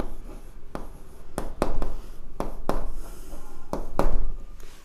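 Pen or marker strokes scratch across a board or page during a maths lesson on linear equations, a series of sharp taps and short scribbles in uneven rhythm, close and clear with no talking.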